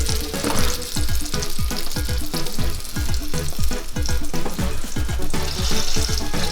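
Vegan fritters fry in shallow oil in a pan, giving a dense, loud, continuous sizzle with rapid bubbling crackles and occasional clinks, close up and with no talking.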